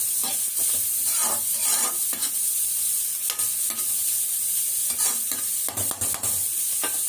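Beans and carrots stir-frying in a home kitchen pan, a steady close sizzle broken by repeated scraping stirs of the spoon, with no talking.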